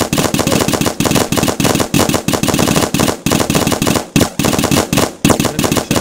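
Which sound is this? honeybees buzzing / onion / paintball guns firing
paintball guns firing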